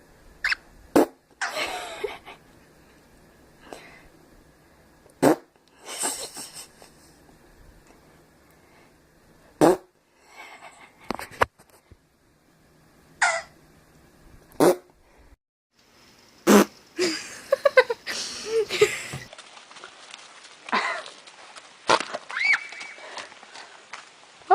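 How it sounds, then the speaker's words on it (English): Fart noises around startled animals, a series of short sharp bursts separated by quiet gaps, with horse-like clip-clops and brief rustling between them. "Scared of farts."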